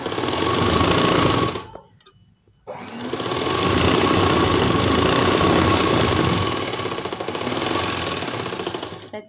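An electric sewing machine stitches a churidar with a steady, loud, close mechanical whir. The run pauses for about a second, then resumes and continues evenly to the end.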